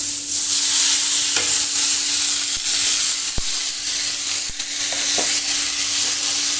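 Polao rice frying in a pan, a loud continuous hiss and sizzle up close with a few sharp taps and scrapes of a spoon against the pan.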